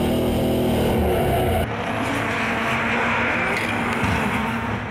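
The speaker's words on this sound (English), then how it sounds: "Gaz Wider mashing the throttle, trying to extract maximum horsepower from the V8." A V8 drift car at full throttle during a drifting championship at Manfeild Raceway, its engine roaring loud and close before the pitch drops sharply as the car moves on, leaving a rough, sustained engine roar.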